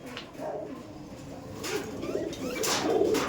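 Kaldom pigeons in a loft give soft, repeated throaty coos at close range, rising and falling over a faint rustle of the birds moving about, with no voices.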